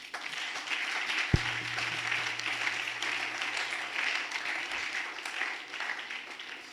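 Church congregation applauding during a Sunday worship service, a steady wash of many hands clapping throughout, moderately loud and even, with a low hum underneath.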